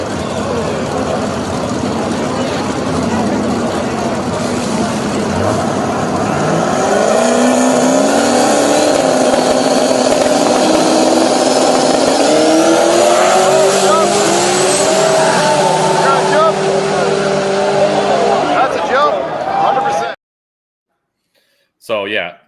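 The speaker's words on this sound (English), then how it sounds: "So this was our race with Clayton, or not race" Street no-prep drag race cars launching and accelerating hard at a woods event, with loud, close engine roar rising through the gears for about twenty seconds and tire noise, then a sudden cutoff.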